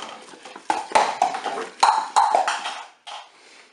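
A spoon stirs apple and peach compote with a little water in a Cookeo multicooker pot, giving a series of close, irregular taps and scrapes against the pot, with a short pause near the end.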